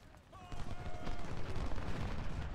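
Rifle volleys of massed Civil War infantry in the strategy game Ultimate General: Civil War, a dense rolling crackle of gunfire that builds into a sustained, loud rumble.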